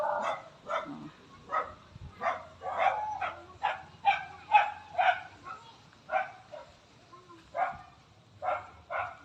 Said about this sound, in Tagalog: Hindi ako lalapit dyan, doggy kasi may aso.